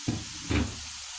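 Chopped onions dropped into a hot pan, two short bursts of frying followed by a quieter settling sizzle, close and without speech.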